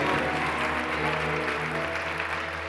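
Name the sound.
church congregation applauding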